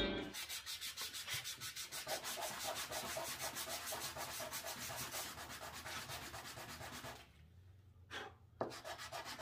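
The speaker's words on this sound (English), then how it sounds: "epoxy can stick to itself if you scratch it up a bit, so that's what we're doing." Cured epoxy surface being scratched up by hand, a rapid, regular back-and-forth rasping like sanding that runs steadily and close for most of the stretch, then pauses with a few isolated strokes near the end.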